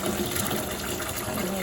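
Water gushes steadily from a tap into a pot at a campground kitchen, a loud continuous splashing rush filling the whole moment without pause.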